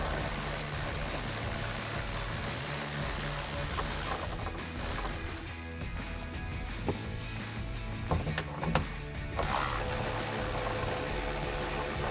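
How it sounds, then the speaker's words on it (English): A ratchet wrench works on T50 Torx bolts holding a Jeep Wrangler JL soft top, clicking mechanical turns over a steady background hum, with a quieter gap midway and a few sharp clicks. "our next step is going to be removing these 6 T50 Torx bolts"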